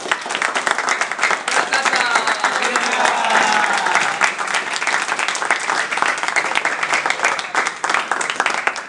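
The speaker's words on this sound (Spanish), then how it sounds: "Un fuerte aplauso para..." Audience at a birthday tribute at a university gives a loud, sustained round of applause, dense clapping lasting throughout with faint voices mixed in.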